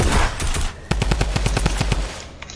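Rapid automatic gunfire in an online shooter video game, a loud close burst of evenly spaced shots that stutters, pauses briefly, then rattles on in a second longer string before cutting off.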